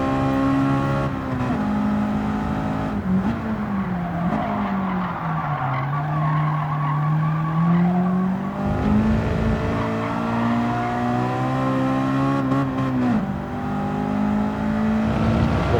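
A Honda Civic SiR racing engine in Gran Turismo 7 drones at high revs around Tsukuba Circuit with long tire squeals and skidding, shifting pitch through gear changes, loud and continuous without voices.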